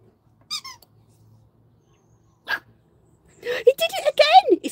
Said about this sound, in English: He barks when he gets really excited.